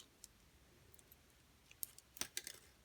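Wire cut from a small DIY keyring holder, heard as a few faint, crisp snips and clicks clustered toward the end against an otherwise quiet room.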